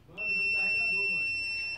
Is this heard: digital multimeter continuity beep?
yes